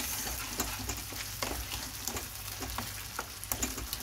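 Tomato, ketchup and sugar sizzle steadily in a frying pan while being stirred, close up, with soft scraping strokes and small pops over the constant hiss.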